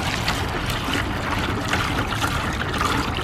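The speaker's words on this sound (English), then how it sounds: "You'll put a gallon of water in the bucket." A gallon of water is poured into a bucket for car washing, making a continuous close splashing and trickling pour for about three seconds.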